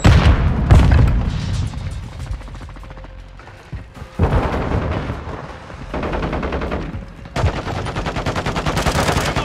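Modern Warfare II hardpoint match at Santa Sena Border Crossing: a frag grenade blast amid loud bursts of automatic gunfire, booming hits and rapid rattling volleys that drop briefly before resuming at full intensity.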